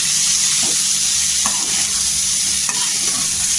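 Boiled cauliflower being sautéed in oil for a dry tiffin vegetable dish, a loud continuous sizzle with soft stirring scrapes and a couple of light utensil taps.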